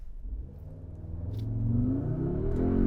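A 2022 Audi S3 sedan in dynamic drive mode pulls hard from low speed, its engine note climbing steadily in pitch as it accelerates, heard from inside the cabin with no talk.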